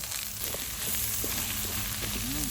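Fermented soybeans and cicadas stir-fry over high heat in a pan, a steady close sizzle with a few soft scrapes of stirring and no voices.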